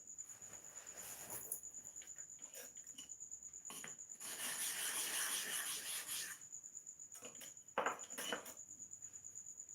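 A new sharpening stone is rubbed in circles to shape its surface, giving a faint, soft scraping and grinding with a louder stretch in the middle, set against a steady high-pitched background hum.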